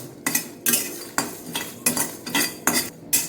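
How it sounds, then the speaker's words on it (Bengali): Whole fenugreek, fennel, cumin, nigella, carom, mustard seeds and black peppercorns dry-roasting over low heat in a kadai for mango pickle masala, with repeated metallic scraping strokes of a spatula against the pan, close and steady. "মেথি মৌরি জিরে কালো জিরে জোয়ান সর্ষে গোলমরিচ আর অল্প রাঁধুনি এবার এগুলো সব কড়াইতে দিয়ে দেব"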